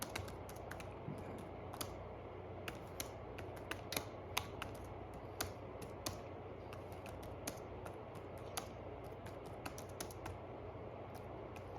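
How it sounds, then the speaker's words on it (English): Someone with curled thumbs types on a computer keyboard using a typing aid, producing a steady run of light, uneven key clicks over a faint background hum for several seconds, with no one speaking. "that's kind of how it works when I'm typing away"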